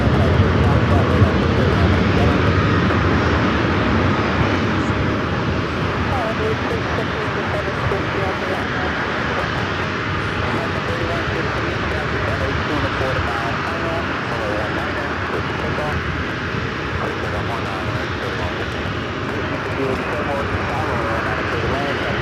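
A jet airliner roars steadily nearby around LAX airport, a broad continuous rumble with wind noise, with people talking intermittently over it.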